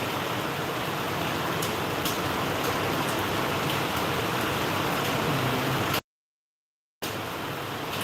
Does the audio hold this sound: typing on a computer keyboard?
no